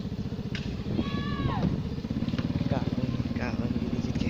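A motorcycle engine runs steadily near a riverside village, its continuous low drone under a person talking and a few bird-like calls.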